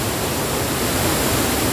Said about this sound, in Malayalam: കരിങ്കപ്പാറ വെള്ളച്ചാട്ടം വൈലത്തൂര് നേരെ കോയിച്ചന റോഡ് കരിങ്കപ്പാറ വെള്ളച്ചാട്ടം